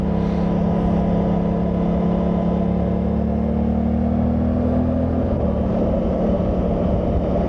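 A Suzuki GSX-8TT middleweight motorcycle idles nearby, holding a steady, even engine drone with a slight rise in pitch before settling back, and no voices.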